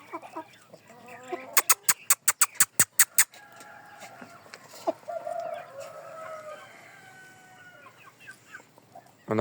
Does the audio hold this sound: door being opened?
no